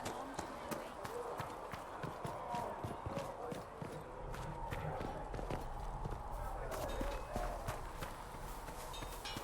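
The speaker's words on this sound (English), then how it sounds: "Have you seen the horses Master Dennett sent the Inquisition?" Steady horse hooves clip-clop at a walking pace, fairly close, with murmured voices and ambient background noise mixed in throughout, in the video game Dragon Age: Inquisition.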